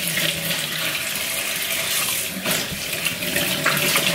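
A household tap pours water steadily into a sink in a near, loud, continuous rush that holds across the whole stretch with no voices.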